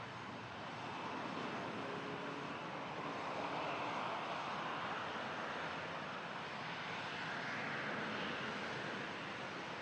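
An Air Canada Boeing 777-300 jet airliner departs Toronto Pearson bound for Paris, giving a steady, broad, distant roar that holds evenly throughout without any talk.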